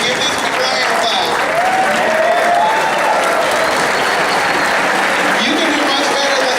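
A standing audience at a high school spring band concert claps loudly and steadily throughout, with scattered cheers and voices mixed into the dense applause.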